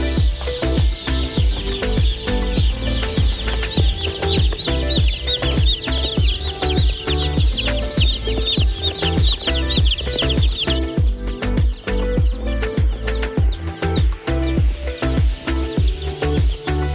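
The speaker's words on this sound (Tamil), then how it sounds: "இப்போ நம்ம 100 கோழி குஞ்சு போட்டுருக்கோம்" A brood of a hundred young broiler chicks peeps and clucks in a paper-lined brooder, loud overlapping chirps in a fast, busy rhythm that never lets up, close by and with no talking.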